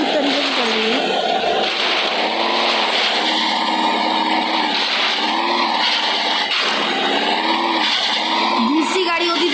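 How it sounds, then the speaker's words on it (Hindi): An engine drones steadily from a car driving over a rough, slippery road in a car simulator video game, a continuous buzzing hum with wavering pitch, while a person talks over it throughout. "गाड़ी कितनी स्मूथ तरीके से चल रही है"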